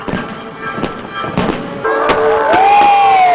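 Fireworks display at a world fireworks festival at night, with a crowd cheering loudly and sharp bursts popping throughout, a rising whistling tone swelling near the end over sustained crowd noise.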